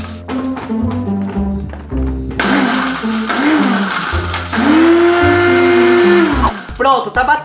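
A kitchen blender crushing Doritos tortilla chips, loud whirring in pulsed bursts that rise in pitch as the chips break down, with speech at the start.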